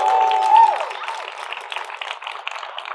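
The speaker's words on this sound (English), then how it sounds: "Big round of applause" An audience applauds a competitor at the 2023 US Barista Championship in Portland, Oregon, with a brief tone at the start followed by scattered, moderately close clapping that thins out over three seconds.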